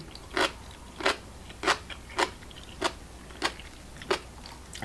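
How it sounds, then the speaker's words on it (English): Crunchy daikon kimchi bitten and chewed close to the mic, a regular series of about eight crisp crunches spaced roughly half a second apart over a quiet background, with no talking. "Nice crunch from the daikon, which is a turnip."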